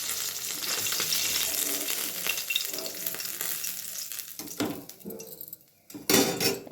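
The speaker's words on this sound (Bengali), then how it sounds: "মাছগুলি ভাজা হয়ে গেছে, এখন এগুলি আমি নামিয়ে নিচ্ছি।" Fish sizzle in hot oil in a home kitchen pan, a steady crackling fry followed by metal utensil scrapes and clinks as the pieces are lifted out.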